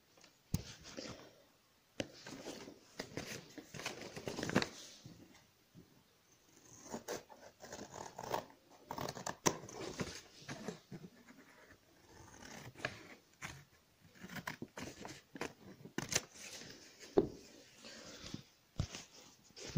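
Scissors snip and slide through paper while a paper box is being cut, giving irregular close crisp cuts and rustles that come in uneven clusters with short quiet gaps.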